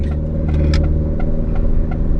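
A DFSK Glory 580 with a CVT climbs a hill at full throttle, its engine a steady, loud, close drone with a few faint clicks above it.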